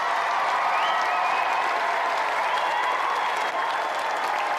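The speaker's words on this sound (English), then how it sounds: "Another round of applause for tonight's competitor, Tim Cant." A studio audience at a television game show claps continuously, a dense, even wash of applause with a few whoops rising over it.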